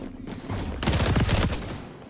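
A burst of rapid automatic gunfire in the XDefiant shooter video game, a dense rattle of shots lasting about a second, fairly loud and without talk over it.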